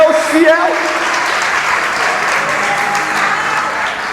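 Church congregation applauding together, a dense steady wash of clapping that carries on evenly throughout, with faint voices mixed into the crowd noise.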